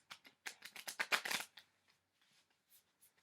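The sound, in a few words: shuffling cards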